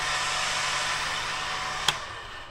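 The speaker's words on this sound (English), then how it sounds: "I've got an engine fan." Engine cooling fan on a go-kart dyno build, a steady whooshing whir running evenly, with a brief click near the end.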